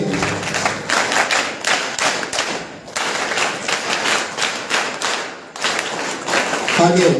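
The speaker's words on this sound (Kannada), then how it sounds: "ಅವರಿಗೆ ಚಪ್ಪಾಳೆ ಮುಖಾಂತರ ಸ್ವಾಗತ ಕೋರೋಣ." A crowd applauds to welcome a guest at a school function, with dense, sustained clapping near and loud throughout, dipping briefly twice before swelling again.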